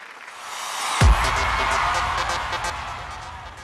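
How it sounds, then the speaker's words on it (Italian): Applause from a theatre audience at a music show, a steady wash of many hands clapping with a brief loud thump near the start, continuing evenly throughout. "Ancora un applauso."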